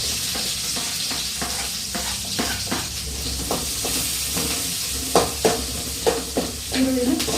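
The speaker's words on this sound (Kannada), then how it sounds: "ಚೆನ್ನಾಗಿ ಫ್ರೈ ಮಾಡ್ಕೋಬೇಕು ನೋಡ್ರಿ." Onions and green chillies frying in oil, a steady close sizzle and hiss with repeated scraping strokes of a stirring spoon, growing a little busier toward the end, no talking.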